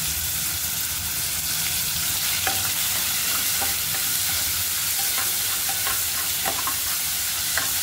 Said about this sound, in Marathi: मस्त लसूण भाजून घेऊया।